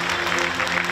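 A hall crowd at the KBO baseball awards ceremony claps in a dense, loud burst of applause honouring Doosan Bears pitcher Kwak Bin, steady for about a second.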